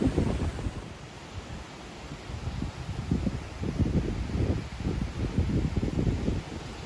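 A river flowing beside a historic ghost town, a steady broadband rush of water mixed with gusty wind noise on the microphone, continuous and fairly soft with no talking.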